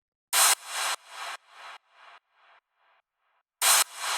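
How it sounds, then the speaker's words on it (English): Hi-hat hits in a hard techno track, each sharp bright burst trailed by a heavy reverb tail that fades away in repeating echoes before the next hit. "which is a hi-hat going into a ton of reverb"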